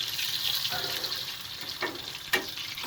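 Potatoes cut for french fries frying in a pan without parboiling, a steady broad sizzle filling the clip with a couple of brief stirring scrapes near the end.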